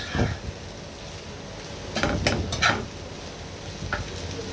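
Spicy bitter gourd and shrimp fry in a pan with a steady low sizzle, broken by a few clattering scrapes of a spatula against the metal partway through.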